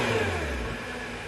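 Nissan GT-R engine with its stock exhaust gives a steady, smooth, muted drone, close and continuous for a brief moment with no voices.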